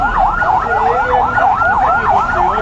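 An ambulance siren wails in a steady, rapid up-and-down cycle, loud and close, over the rumble of engines in a traffic jam on the Jhenaidah–Magura highway at Hatgopalpur bazar.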